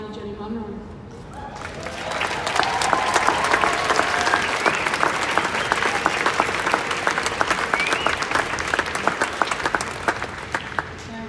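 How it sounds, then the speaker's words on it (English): A crowd at the Justice for Cassius Turvey vigil on Gadigal Country breaks into sustained applause after a brief quieter moment, many hands clapping steadily and densely for several seconds. "I'd like you to give an applause out to my Auntie Jenny Munro."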